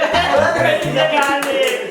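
Hand clapping during a lighthearted flip bottle challenge game among friends, heard as a few quick claps mixed under loud, close voices talking and laughing.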